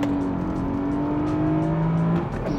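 A Honda vehicle, faster than a turbocharged Honda Fit, accelerates hard in a 0 to 60 run. The engine drones loud and steady with rising pitch throughout, then eases off near the end.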